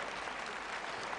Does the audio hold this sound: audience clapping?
yes